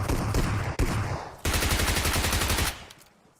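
Automatic rifle fire rings out in PUBG Mobile at Pochinki, close and loud, with a rapid burst, a brief break, then a longer sustained volley that fades out at the end.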